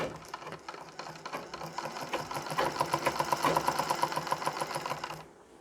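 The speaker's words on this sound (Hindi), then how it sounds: "यहाँ तक हमने सिलाई लगा ली, यानी आसन वाला भाग हमने जोड़ लिया।" A sewing machine stitches the seat section of a Nauvari saree, its needle running in a fast, steady mechanical rattle close up that holds throughout and cuts off near the end.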